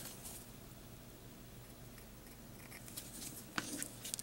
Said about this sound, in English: You have to cut it with the scissors.